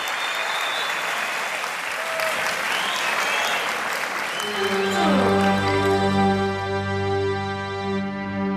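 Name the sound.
audience applause after a performance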